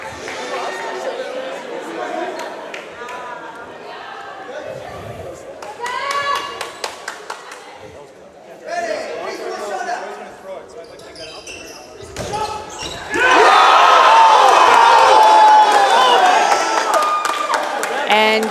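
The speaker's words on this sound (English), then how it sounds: "Very spirited cheering here." Spirited crowd at a tournament match, with clapping, chatter and cheers in bursts that build into a loud, sustained roar of cheering near the end, with voices talking throughout.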